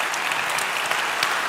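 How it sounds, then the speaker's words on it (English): Steady applause from an audience at a live Mindvalley University 2022 event, honoring the event team; dense continuous clapping with no talk over it, fairly even in level throughout. "one more round of applause for the entire team for what they put together here"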